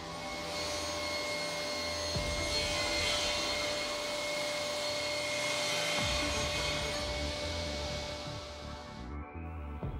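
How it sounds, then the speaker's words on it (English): A Felder C3 31 Hammer combination woodworking machine runs a loud, steady high-pitched whine as a clamped board is fed through the blade, the cutting roar rising and falling slightly before spinning down at the end. "Now clamp the board under the edging shoe, which ensures that this cut is also performed without a hitch."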